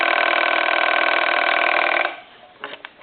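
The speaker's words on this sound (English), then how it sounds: "I'm going to go ahead and answer the phone" A military TA 954 field telephone's ringer rings in one loud, continuous buzzing trill for about two seconds, then stops, followed by a few faint clicks and handling knocks.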